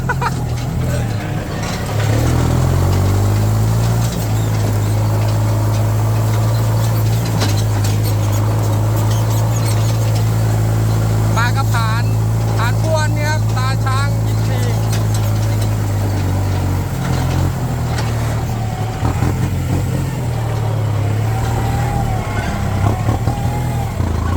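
Kubota M5702 tractor engine runs steadily throughout while the tractor is driven, a loud continuous low drone that shifts pitch near the start and end as gears change, with someone talking over it.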